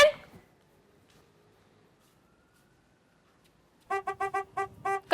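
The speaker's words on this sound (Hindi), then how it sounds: "तुम्हारी वैन कितनी देर से बाहर हॉर्न बजा रही है," A school van parked outside honks its horn in a rapid burst of five or six short toots at the end, after a faint sound at the start and near silence.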